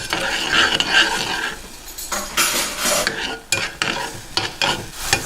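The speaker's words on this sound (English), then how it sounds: "after stirring for about 5 minutes with the sugar and fish sauce, we're basically making a caramelized glaze here" Pork belly with sugar and fish sauce sizzles in a pot as a spoon scrapes and stirs it while the glaze caramelizes, clinking metal strokes over a steady frying hiss.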